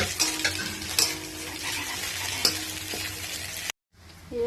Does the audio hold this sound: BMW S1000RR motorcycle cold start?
no